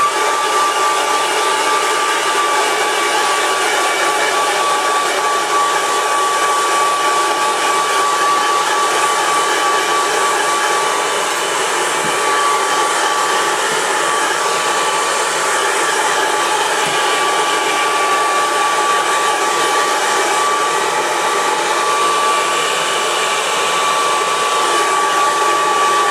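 A heat gun blows a steady, loud, continuous whoosh with a faint high whine while it heats a Smith & Wesson Bodyguard 380 pistol, going on unbroken without pauses or voices.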